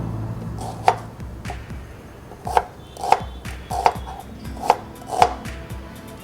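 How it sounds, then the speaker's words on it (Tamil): A knife chops paneer into rough cubes on a board, with sharp, distinct thuds in an uneven rhythm of about eight strokes, close and fairly loud with no talk. "ஸோ அதில் க்யூப்ஸ் மாதிரி சும்மா க்யூப்ஸ் மாதிரி நான் வெட்டி போடுறேன்."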